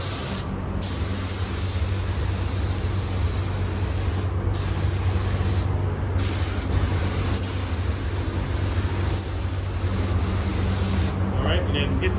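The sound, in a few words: spray gun spraying paint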